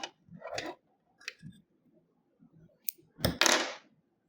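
Scissors snip through a crochet yarn tail on a granny square, giving a few soft, close clicks and a brief sharper snip near the end, with quiet gaps between.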